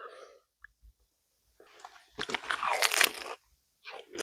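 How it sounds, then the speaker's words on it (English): Crisp crunching bites into viral crispy chicken shawarma with garlic sauce and pickles, a few soft mouth sounds first, then a loud burst of close-up crunching and chewing that tails off. "Chicken shawarma is good. Definitely crunchy."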